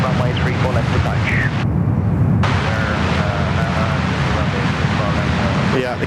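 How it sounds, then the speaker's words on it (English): A China Eastern airliner on approach at Sydney Airport, loud steady jet engine roar and wind rumble heard outdoors, with people talking and a radio over the top. "A couple of parallel arrivals here."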